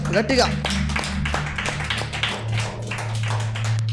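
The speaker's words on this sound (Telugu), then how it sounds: "గట్టిగా చప్పట్లు కొట్టి ప్రభు నామాన్ని మహింపడదాం" A church congregation claps loudly in a steady rhythm of sharp hand strikes, carrying on under a voice speaking over the room.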